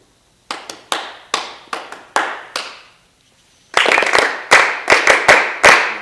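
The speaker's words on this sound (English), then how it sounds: "So if you guys can just clap and repeat what I do." Sharp hand claps in a rhythm exercise at a music arrangement rehearsal: a single leader claps a short spaced pattern, then after a pause a group answers with louder, fuller claps repeating it.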